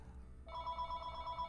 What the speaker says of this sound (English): So I apologize for the ringing noise of the telephone.